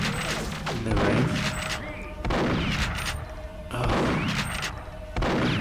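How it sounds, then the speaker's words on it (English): Shotgun blasts in Perfect Dark on the N64 fire in a steady rhythm of four or five loud, booming shots, each decaying into rumbling echo before the next. "These shotgun blasts tend to be totally random."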